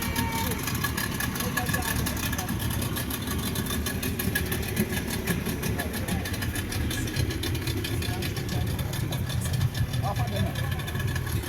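Twin Yamaha 40 horsepower outboard engines on a tour boat run with a steady, rumbling drone mixed with water and wind noise, constant and moderately loud throughout.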